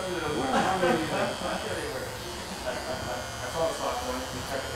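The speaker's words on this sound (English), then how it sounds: "This is the strongest trimmer, the strongest clipper I have in the house" A powerful electric hair clipper buzzes in a barbershop, its drone rising and dipping as it cuts, with talk around it.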